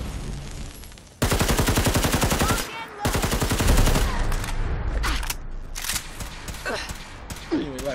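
Modded weapon in Fallout 4 firing long, loud, close automatic bursts, pausing briefly, then breaking into scattered shots and short volleys toward the end.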